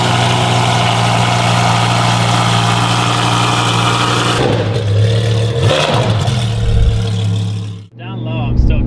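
A Lamborghini Huracan STO 5.2-liter V10 on OEM headers with an aftermarket Valvetronic exhaust idles loud and close, then blips in a couple of revs, with a sudden cut near the end and voices talking over it.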